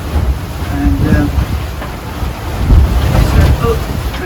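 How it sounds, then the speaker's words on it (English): Sailboat pitching and slamming into rough waves under way at sea, with a steady roar of wind and water rushing past the hull and heavy, irregular thumps as the bow pounds through the swell. "But hanging into these waves like this just stops it"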